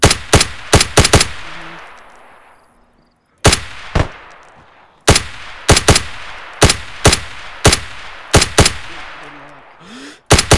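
Rapid gunfire from the video game DayZ, a run of sharp, loud shots in short bursts and single cracks, some echoing off into decaying tails, with no talk over them.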